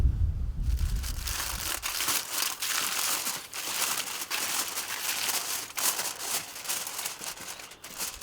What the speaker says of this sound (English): Now we just gotta wrap it up with good old tin foil.